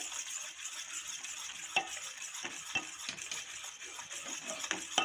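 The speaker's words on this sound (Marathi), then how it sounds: "हे बघा, अशा प्रकारे छान मिक्स करून घ्यायचं आहे" A spoon stirring a biscuit dessert mixture made with milk powder and biscuit powder in a bowl. Light clinks and scrapes repeat close by at a quiet level, with no voices.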